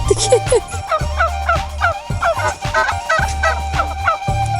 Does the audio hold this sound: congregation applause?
no